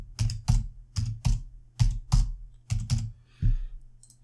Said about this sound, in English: So typing it here.